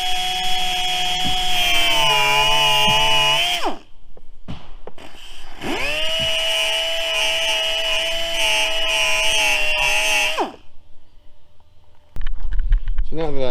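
A high-pitched whining grinder works down screw spots on a plastic bumper for a 2005 Pontiac Grand Prix, running loud in two long bursts that spin down in between, followed by a brief rough noise.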